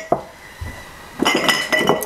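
Small glass canning jars clink together in short bright taps, one near knock followed by a quick cluster of ringing clinks toward the end, on a home preserving day with the canner going.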